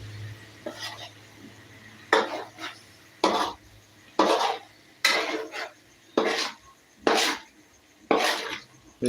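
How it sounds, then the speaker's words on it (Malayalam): A spoon scrapes and stirs a dry dish in a metal pot, with about eight loud, regular scraping strokes at roughly one-second intervals against a low background hum. "ഇളക്കി കൊടുക്കുക ഇത് ഇളക്കുന്നത് വളരെ പ്രധാനപ്പെട്ട ഒരു കാര്യമാണ്"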